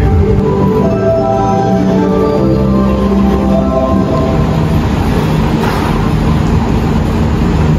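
The Jayabaya passenger train pulls into Semarang Poncol station, a loud, close, continuous rumble of rolling wheels and carriages with sustained tonal squeals from brakes or rails.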